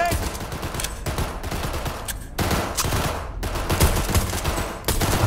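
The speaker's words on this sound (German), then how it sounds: "Kann mehrmals schießen, ne, dann." Rapid bursts of gunfire at a target in Cyberpunk 2077, loud volleys of shots in clusters with brief pauses between them, filling the whole stretch without talk.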